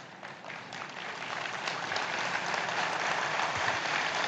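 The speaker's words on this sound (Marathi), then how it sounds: "इच्छुक अजून जोरात टाळ्या मारतात हा." A large crowd at a Shiv Sena political rally in Mumbai bursts into sustained applause, dense clapping that builds and stays loud for several seconds.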